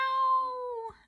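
A single drawn-out cat meow, steady and clear, fading off at the end with no other sound around it.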